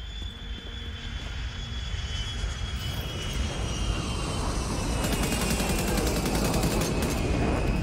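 A plane passes low overhead in the shooter game The Division 2, a steady engine roar that swells and grows louder toward the end, with faint background noise and no talking.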